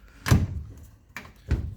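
A door with a sticky seal is being tugged open, giving three dull thunks: one firm knock, then a pair of quicker bumps, close by in a quiet room.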